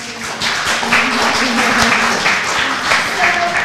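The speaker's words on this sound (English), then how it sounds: "So we'll give them applause for everyone." An audience at a poets and scholars roundtable applauding the panelists, steady crowded clapping held throughout at close range, with faint voices underneath.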